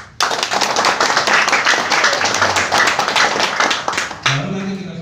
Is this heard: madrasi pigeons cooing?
no